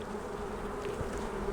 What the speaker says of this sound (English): So I'll shake these bees in there.